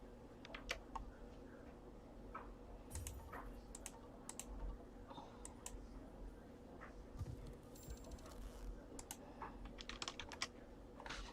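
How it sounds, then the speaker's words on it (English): Computer keyboard typing, a continuous run of close, crisp key clicks in uneven bursts over a low steady hum, with no voices. "I'm still typing in caps."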